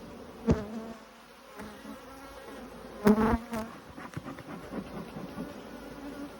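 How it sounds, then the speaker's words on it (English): Honey bees buzzing steadily in a dense drone, with a few sharp knocks and handling noises over the hum; a voice speaks briefly. "these bees are a little bit cranky"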